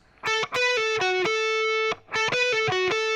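A distorted electric guitar plays a short lick of picked notes from a song's solo, a held note in the middle, then a quick repeated phrase, loud and alone.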